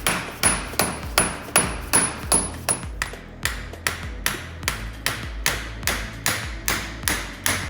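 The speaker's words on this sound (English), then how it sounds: "You're probably gonna need to get a bigger hammer." Steady metal hammer blows tapping on the differential of a 2019 Razor Turbo XP UTV, about twenty evenly spaced ringing strikes, close and loud with no talk.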